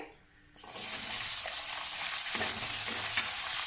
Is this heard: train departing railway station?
no